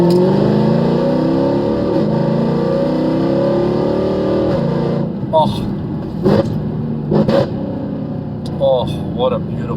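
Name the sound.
Mercedes C63 AMG engine revving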